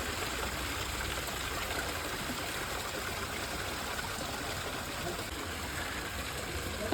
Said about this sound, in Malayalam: ഈ ഒരു വെള്ളത്തിൻ്റെ സൗണ്ടാണ് നമ്മളെ ക്ലയൻറ്റ് പറഞ്ഞത്.